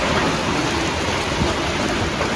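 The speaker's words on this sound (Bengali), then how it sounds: "বৃষ্টি মানে ভালো বৃষ্টি।" Heavy rain pouring down steadily, a dense, loud, unbroken wash of falling water with no voices over it.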